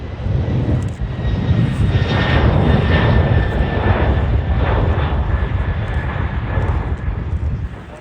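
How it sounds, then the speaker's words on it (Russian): Airplanes roll along the taxiway and take off at Tashkent airport only metres away, a loud, steady aircraft engine roar with a broad rumble that swells and holds throughout, with no voices. "Взлеты, посадки, рулежная дорожка, самолеты в нескольких метрах от нас."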